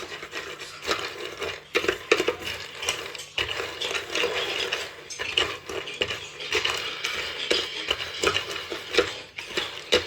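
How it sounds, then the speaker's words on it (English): Roasted peanuts are rubbed and shuffled to strip their husks, giving a steady close rustling and rattling with crisp clicks and scraping throughout, no voices. "the next step is to remove the husks"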